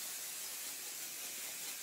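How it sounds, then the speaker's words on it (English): Pixie Spray craft adhesive hisses from an aerosol can onto a stencil in one continuous, even spray, close and steady throughout, with no talking. "I spray a good coat on my stencil."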